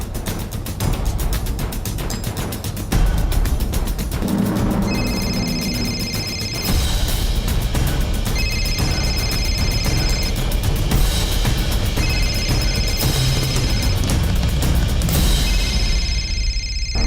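A mobile phone ringing in a police crime drama, its electronic ringtone repeating in steady bursts over a loud, dense background music score with no talk.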